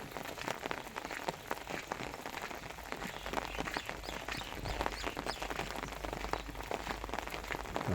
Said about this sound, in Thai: ตัวนี้ก็ฝนยังตกอยู่นะครับฝนตกลินเบาๆนะครับ